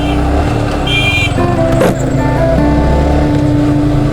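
A Yamaha R15 V3 sports motorcycle is ridden with a loud, steady engine drone close to the mic. Its pitch shifts slightly as it runs, with wind rush behind it.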